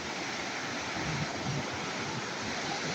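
Flash-flooding river torrent in Zaqatala surging past with waves, a steady loud broadband roar of rushing water that runs continuously and close, with no voices over it.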